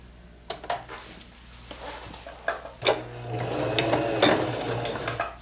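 A sewing machine stitches a plain seam in the groove of a bound edge, its motor whirring in a close, steady run that starts after a few faint clicks of fabric handling.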